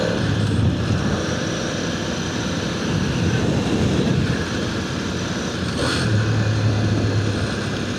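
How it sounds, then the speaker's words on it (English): A Ducati motorcycle engine runs steadily and loudly throughout, a continuous rumbling drone with no pauses. "Love me a Ducati."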